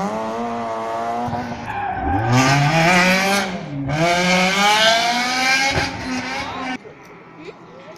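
A rally car, driven hard on a rally stage, revs loudly with rising engine tones and sustained tire squeal and skidding close by, easing off near the end; people talk beneath the engine noise.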